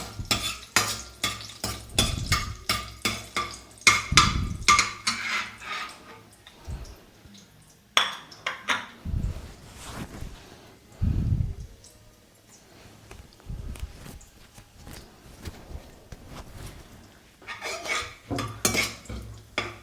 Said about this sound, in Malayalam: അതൊന്ന് ഇളക്കി കൊടുക്കാം